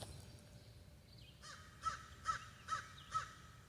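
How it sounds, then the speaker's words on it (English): Crows caw outdoors at a distance, faint and clear: a run of five harsh, evenly spaced calls at a steady rhythm over a quiet background hum. "I can hear the birds"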